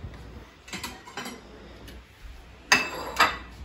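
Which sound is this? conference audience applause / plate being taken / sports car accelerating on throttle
plate being taken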